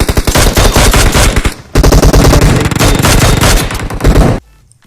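Loud, rapid bursts of machine gun fire in a shooter video game, two long sustained volleys separated by a brief gap, ending abruptly in near silence.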